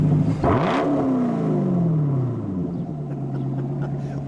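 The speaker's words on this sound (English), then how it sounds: "Your Hennessey 650 rev. Get a chance to hear that." A Hennessey HPE 650 tuned 2014 Chevrolet Corvette Stingray engine blips hard and loud, then the revs sweep down steadily into a settled idle rumble, heard up close with no talk.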